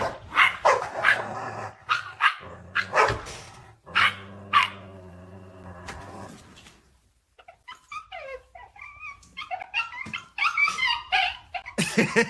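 Two dogs face off across a barrier, trading a rapid volley of loud, close barks and yips with growls and whimpers mixed in, pausing briefly before another flurry of sharper, higher barking.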